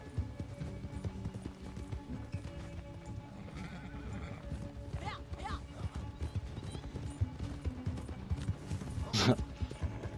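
Horse hooves clip-clopping in Red Dead Redemption 2, a steady rapid patter of hoofbeats under a busy game soundscape, with a brief neigh-like call near the end.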